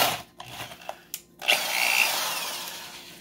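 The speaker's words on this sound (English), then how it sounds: "this drill bogged down a significant amount" A power drill, a compact Milwaukee 1/4 inch model, boring wood with a Bosch DareDevil self-feed spade bit, bogging under load: a few short bursts, then a sustained loud whine with no talk over it.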